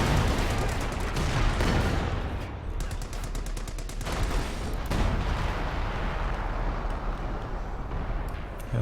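A Company of Heroes 2 battle in a 3v3 match rumbles with artillery fire and rattling gunfire, a dense, continuous barrage of rapid cracks and booms, with a commentator's voice faintly underneath.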